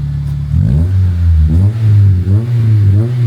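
A Honda Civic with about 176,000 miles and a clutch issue revs close and loud. The engine climbs and falls in several rough, rumbling swells with no voices over it.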